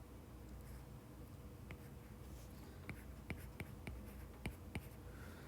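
Pen strokes drawing lines on a page while writing physics notes, soft close scratching with a few sharper taps, faint throughout.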